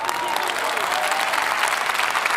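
Applause from a crowd, a steady dense wash of clapping holding at even loudness for a couple of seconds, with faint voices underneath.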